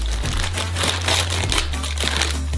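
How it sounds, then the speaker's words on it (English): Plastic packaging crinkles and rustles steadily as a bag of sugar is torn open in a kitchen, a close, continuous crumpling with a low hum underneath. "Open up some sugar."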